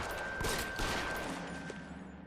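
Gunfire in the video game L.A. Noire, a dense burst of rapid shots and fusillade at moderate distance, fairly quiet and continuous without speech.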